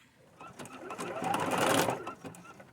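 A sewing machine badly in need of oil stitches upcycled fabric for a boho fairy skirt and runs over a pin, its rapid needle clatter close and steady, swelling louder in the middle before tapering off.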